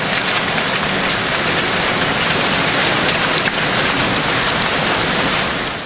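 Hail falling on potato fields in the Tumanyan region of Armenia makes a dense, steady roar of pelting ice, loud and continuous with no voices.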